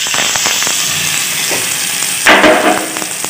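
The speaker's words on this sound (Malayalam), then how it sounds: "ഇത് നമുക്കത് വറവ് അരിശ്ശേരിയിലേക്ക് ഇട്ട് കൊടുക്കാം" Hot oil with popped mustard seeds is poured into erissery, a yam and raw banana curry for the Onam feast, giving a sudden loud sizzle and hiss that flares near the end after steady crackling.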